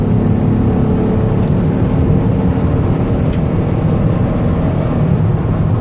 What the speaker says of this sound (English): Get it out on the highway here, give it a little gas.